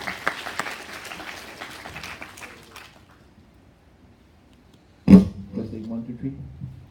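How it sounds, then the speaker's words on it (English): Audience at a healthcare financing panel breaks into brief applause, a burst of clapping that rises suddenly and fades within a couple of seconds, preceded by murmuring room talk. "I might give that man a round of applause"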